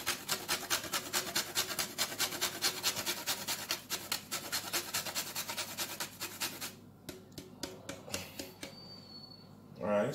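Pieces of spice are grated by hand into a pot of cho-cho porridge, a rapid, regular rasping scrape that repeats steadily before slowing into a few scattered strokes near the end.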